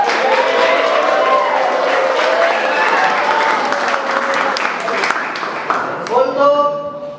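A class applauds together after a lesson, the steady clapping filling the room while voices chatter underneath and a few louder calls rise near the end.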